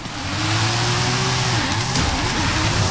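A heavily tuned, powerful car in Forza Horizon 5 revs loudly and steadily, its engine tone holding and dipping slightly mid-clip with a faint tire squeal, close and continuous with no talk.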